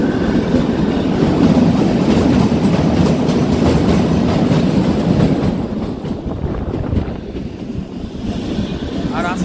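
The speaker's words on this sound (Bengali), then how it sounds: "একটার পর একটা টানেল অতিক্রম তো করে চলেছে আমাদের হিমালয়ান কুইন এক্সপ্রেস।" The Himalayan Queen Express toy train runs on the Kalka–Shimla railway, a loud, close rumble of wheels and carriages with rhythmic clatter, easing slightly in the second half.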